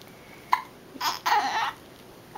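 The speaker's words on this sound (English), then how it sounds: "You still got the hiccups." A baby hiccups close by, a short sharp catch followed by soft babbling vocal sounds.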